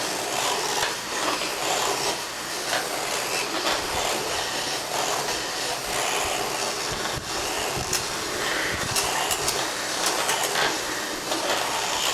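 Steady abrasive rubbing and rasping as a drinking gourd is sanded and cleaned out, a continuous close scratchy texture with occasional sharper scrapes and no speech.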